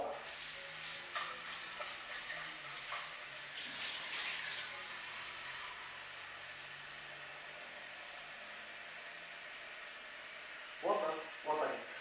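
Water runs steadily into a pan in a home kitchen during soup preparation with potatoes, a continuous hiss, followed by a couple of short clunks near the end.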